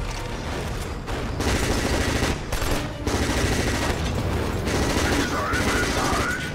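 Assault rifle gunfire in the shooter game Killzone 2, rapid loud bursts of automatic fire mixed with other battle noise and someone talking over it.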